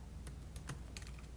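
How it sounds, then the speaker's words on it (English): Computer keyboard keys clatter in a quick, irregular run of soft clicks, nearby and fairly quiet over a steady hiss, with no talking. "I'm not really good at talking and typing at the same time"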